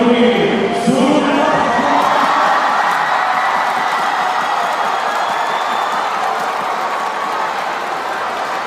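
Loud crowd cheering and roaring at the Asian Games 2018 swimming finals, including a men's 1500m freestyle event, with dense sustained noise from a large arena audience, swelling and then holding steady throughout.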